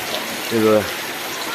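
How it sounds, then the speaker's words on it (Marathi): Rain falls steadily in a Konkan village, a broad, even hiss throughout, with a brief human voice rising over it midway. "एवढा पाऊस पडला आहे खाली पाणी पण साठलं आहे"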